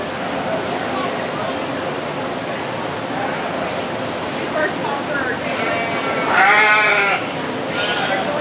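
Sheep bleat loudly near the end of a noisy barn scene at a livestock show, with several wavering calls over a steady crowd murmur and background chatter.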